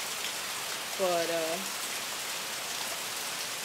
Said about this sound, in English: You can tell by that pounding rain.